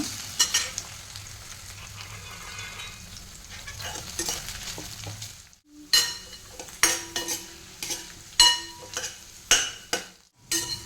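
Potatoes frying in oil until crispy give off a steady sizzle and hiss, then a utensil tosses and scrapes them in the pan with a series of rhythmic, fairly loud clinks and knocks.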